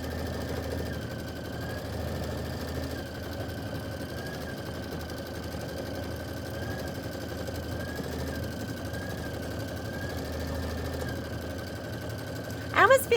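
An embroidery machine stitches out a Kimberbell quilt block with a low, continuous mechanical hum and a faint steady whine, ending in a brief louder clatter.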